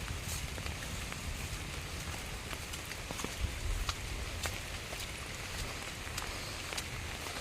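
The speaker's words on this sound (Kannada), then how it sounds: "ಇವಾಗ ಸಾಯಂಕಾಲ 4 ಗಂಟೆಗೆ ಮಳೆ ಸ್ಟಾರ್ಟ್ ಆಯಿತು." Heavy evening rain falls in a steady, dense patter with scattered sharper drops, continuous and fairly close, with no voices.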